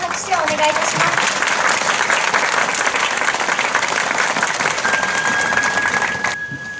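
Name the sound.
audience applause at a hyakunin isshu event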